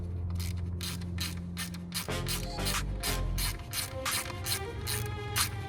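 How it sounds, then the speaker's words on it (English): A ratchet loosens bolts on an Audi Q3, making a run of evenly spaced metallic clicks close up over a low background hum, with no talking. "I'm just gonna loosen this one as well."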